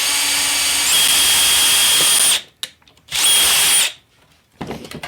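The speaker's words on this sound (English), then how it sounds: "So I'm going to go with this drill bit here." A power drill boring a pilot hole for a Die Hard Christmas ornament whines loudly for a couple of seconds, stops, then spins up again for another burst, with quiet handling noises between runs.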